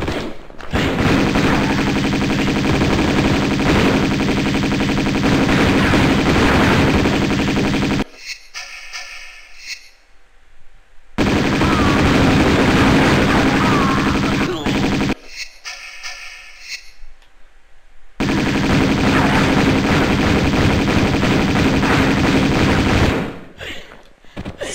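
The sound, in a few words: Uzi gunfire in the video game Tomb Raider II Remastered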